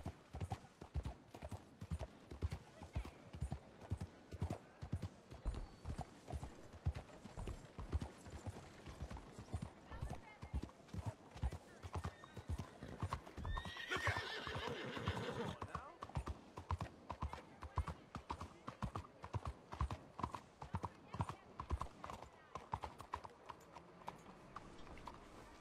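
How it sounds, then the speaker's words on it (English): Horse hooves in the Red Dead Redemption 2 video game clip-clop in a steady, even trot for the whole stretch, with a brief whinny partway through and a voice speaking over the hoofbeats. "Let's hitch the horse."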